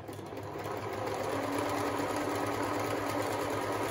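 A Pfaff Hobbymatic 907 sewing machine runs with a steady, fast mechanical whir and rhythmic clatter, continuous and fairly quiet throughout.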